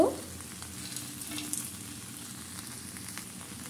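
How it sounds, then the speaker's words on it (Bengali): Vegetable curry with crumbled pumpkin lentil dumplings (bori), potato, eggplant and greens sautéing in a pan, giving a steady, close, even sizzle and crackle throughout, with a brief louder burst at the start and no talking. "আবারও খুব ভালো করে কষিয়ে নেব"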